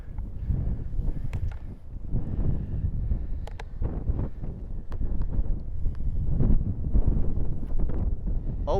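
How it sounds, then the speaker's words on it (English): Strong headwind gusting across an open golf course, a steady rumbling buffet of wind noise on the microphone with brief rustles throughout. "That headwind is nasty."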